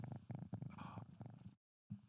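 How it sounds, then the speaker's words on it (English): A house cat purrs close to the microphone in a steady, rhythmic rumble of repeated breaths, soft but clear, broken by a brief silence near the end before resuming. "just being cute. Just purring."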